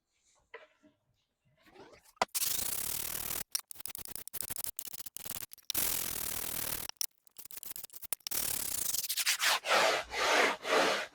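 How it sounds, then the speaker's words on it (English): A wooden guitar rim is sanded by hand. Long, close, raspy rubbing strokes come in bursts separated by brief pauses, and the strokes grow more rhythmic and rapid toward the end. "this rim is now sanded every square inch all the way around, and it's nicely consistent"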